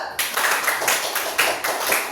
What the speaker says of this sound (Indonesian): tepuk tangan pada guru